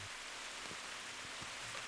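Heavy rain falls in a steady, dense hiss with a few soft drop taps, quiet and continuous with no voices.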